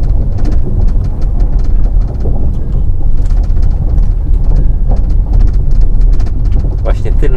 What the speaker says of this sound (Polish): Może w innych egzemplarzach pokrywa bagażnika tak nie hałasuje.